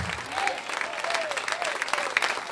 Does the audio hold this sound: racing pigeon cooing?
no